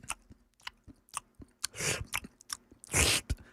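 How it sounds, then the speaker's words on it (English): Someone loudly chews a crunchy snack close to the microphone during a talk show: scattered sharp crunches and bites, with two longer, louder crunching bursts, in an otherwise quiet room. "Loud chewing."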